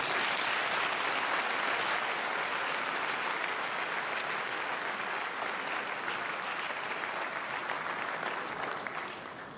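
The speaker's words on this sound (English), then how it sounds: "Another big round of applause for the chair." A large audience at a University of Johannesburg inauguration ceremony claps for the chair, dense sustained applause filling the hall for several seconds before tapering off slightly at the end.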